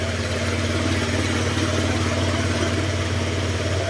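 A Honda Click 125 scooter engine idling steadily nearby after coolant dripped on it, a constant buzzing drone with even low-pitched pulsing throughout.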